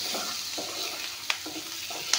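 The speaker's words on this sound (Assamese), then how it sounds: "অলপমান ভাজি ল'ম" Fish heads sizzle and crackle as they fry in a pan, with close, steady stirring and a few sharper scraping clinks over the continuous hiss of hot oil.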